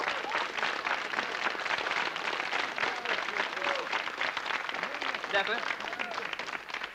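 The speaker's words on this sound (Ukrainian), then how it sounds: "Калі ласка, аплодысменты." Studio audience applauding at the start of a 1992 TV game show, steady dense clapping throughout with a host talking over it.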